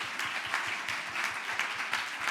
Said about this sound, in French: Un grand applaudissement pour Simone Fatal